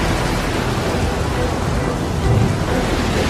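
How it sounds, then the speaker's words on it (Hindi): A thunderstorm at sea, a loud continuous roar of wind and rain with a low rumble swelling briefly, with no talking over it. "मैं जानता हूँ ये भयंकर तूफान मेरी वजह से तुम पे आया है।"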